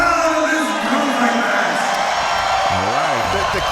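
A loud crowd at an armored MMA fight event cheering and whooping in a steady roar, with a voice talking over the noise near the end.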